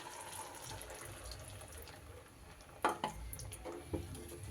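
Water runs from a tap to rinse a mixer grinder bowl in a home kitchen, a soft continuous trickle with a few sharper splashes and clinks near the end.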